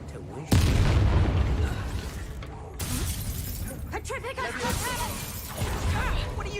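Incendio fire spells blast in the Hogwarts Legacy video game, a loud booming burst at the start followed by crackling, crashing combat effects throughout, with voices talking over the action.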